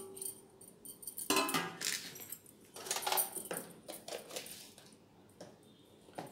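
Semolina being stirred by hand with chopped capsicum, carrot and salt in a bowl, giving soft scraping and clinking of a spoon against the bowl in irregular bursts, close up with no talking.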